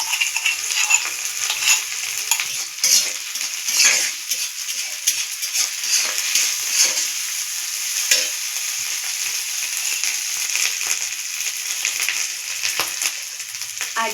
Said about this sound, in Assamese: আদা নহৰু জলকীয়া খুন্দি লোৱাটো ইয়াতে দি দিছোঁ অকণমান ভাজাৰ কাৰণে